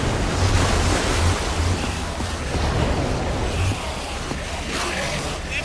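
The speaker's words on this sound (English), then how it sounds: "I don't know how much water this thing is gonna kick out" Water released by a machine in the Minecraft Story Mode video game, a loud continuous rushing and surging wash that swells and eases slightly but never stops, with no voices over it.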